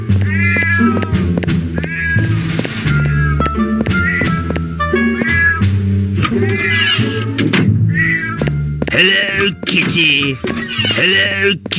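Repeated cat meows sound inside the Hello Neighbor horror video game, loud and close, with several calls spread across the stretch alongside music-like harmonic tones and a few thunks.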